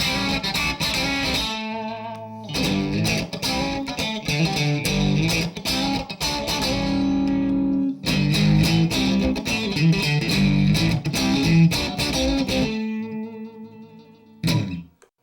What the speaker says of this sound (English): The sound of vintage single coils.